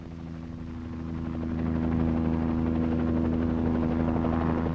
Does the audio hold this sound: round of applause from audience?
no